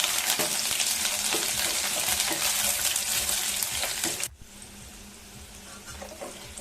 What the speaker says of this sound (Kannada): ಹೆಚ್ಚಿಟ್ಕೊಂಡಿರೋಂಥ ಈರುಳ್ಳಿ ಏನಿದೆ ಅದನ್ನು ಹಾಕ್ಕೊಂಡು ಸ್ವಲ್ಪ ಫ್ರೈ ಮಾಡ್ಕೊಳ್ಳೋಣ